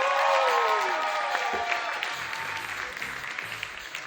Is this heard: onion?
no